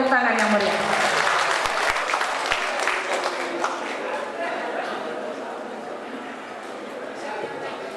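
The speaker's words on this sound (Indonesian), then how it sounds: "Sekali lagi kita berikan tepuk tangan yang meriah." Lively applause from a seminar audience for a group of young dancers in Pasaman regency, starting loud under an announcer's voice and gradually thinning out.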